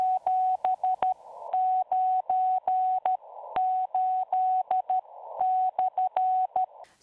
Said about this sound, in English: Morse code is a combination of dots, dashes, and spaces that together make letters and words